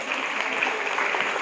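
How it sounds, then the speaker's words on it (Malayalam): An audience at a parish's 150th jubilee closing ceremony in Thrissur applauds the release of a commemorative book, a brief, dense burst of many clapping hands that is steady and moderately close. "എല്ലാവർക്കും നിറഞ്ഞ കയ്യടിയോടെ"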